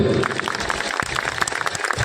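Loud, dense applause from a crowd at a live stage show in Odisha, a continuous noisy patter filling the whole stretch.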